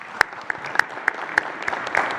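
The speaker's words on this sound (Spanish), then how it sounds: "Un aplauso a Carlos" Applause at the Mexican President's morning press conference: a rhythmic series of sharp, evenly spaced claps over a steady bed of crowd clapping, fairly loud and with no talk over it.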